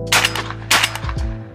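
A CZ 712 G3 Target 12-gauge semi-automatic shotgun fires target loads, giving two sharp, loud reports in quick succession with ringing decay, all over a steady low hum.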